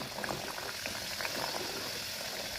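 Khari pastries drop into hot oil and fry, producing a continuous close bubbling and crackling sizzle at moderate loudness with nobody talking.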